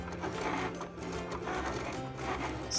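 A Cricut Explore cutting machine slices cardstock for paper roses, giving a steady, close mechanical whir and rubbing hum that runs continuously with slight dips.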